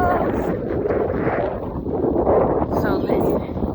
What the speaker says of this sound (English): it's windy, guys, so bear with me.